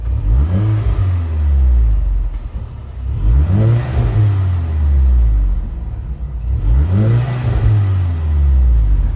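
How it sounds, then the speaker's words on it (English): A Volkswagen Scirocco R engine revs repeatedly, three loud surging rises and falls with a deep exhaust rumble, close and with no talking. "Let's give it some revs."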